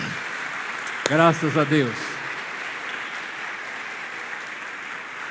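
A church congregation applauds the fathers in attendance, a steady wash of clapping running through the whole stretch while a voice briefly speaks over it near the start.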